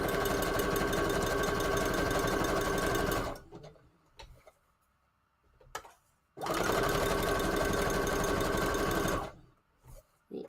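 A sewing machine stitches a junk journal cover in two loud, rapid, close bursts of about three seconds each, separated by quiet pauses with faint handling sounds.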